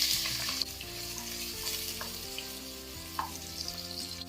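Onion, curry leaves and green chillies fry in hot oil with a steady close sizzle and occasional stirring scrapes, no one speaking.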